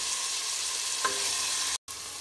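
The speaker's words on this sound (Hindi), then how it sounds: "दो मिनट मैं प्याज को फ्राई कर लिया" Continuous sizzling of onions frying in a pan, a steady close hiss with a brief clink midway and a short dropout near the end.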